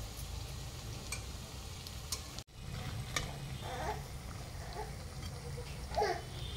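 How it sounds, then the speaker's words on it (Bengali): Cauliflower pakoras coated in gram-flour batter fry in hot oil over low heat, a steady soft bubbling and crackle with a few brief clinks running through the whole stretch, with no voices. "দেখো ফুলকপির পকোড়াগুলো কত সুন্দর ভাজা হয়েছে, একদম মচমচে।"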